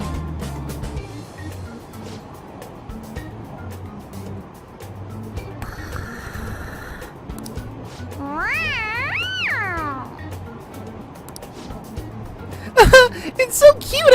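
Cartoon cat meows from the Persona 5 video game, a short run of rising and falling cries near the middle over steady game music and ambient hum, with a louder burst of sound near the end.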